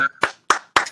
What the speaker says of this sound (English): You guys want to give me a little round of applause there?